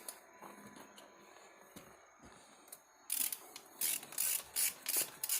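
A ratchet fitted with a 3/4 socket tightens a bolt. A few seconds of near quiet give way to close, loud bursts of rapid clicking, about five strokes in a row.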